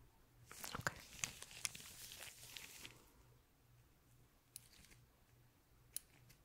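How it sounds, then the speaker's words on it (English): Scissors trim brushed-up eyebrow hairs up close during an eyebrow grooming session: a quick cluster of crisp snips, then a couple of isolated cuts later, soft against a quiet background. "I'm brushing the hair up and then just trimming off a little bit of that excess"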